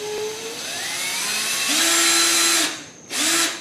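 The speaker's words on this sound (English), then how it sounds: "I'm going to try to just drill it right through the template." Power drill boring holes through a template with a 7/64 bit while fitting air conditioning to a 1965 Impala SS, two close whining bursts, the first longer and the second short after a brief pause.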